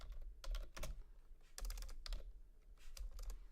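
Quick bursts of keystrokes on a computer keyboard, clustered in short rapid runs separated by brief pauses, close and fairly quiet.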